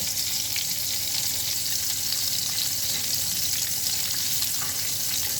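Shrimp fry in a hot pan, a dense continuous sizzle and crackle holding steady throughout, close and alone without any talk.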